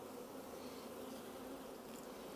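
A continuous hum of many honeybees rises from a hive during splitting, quiet but unbroken, a close, uniform buzz with no talking.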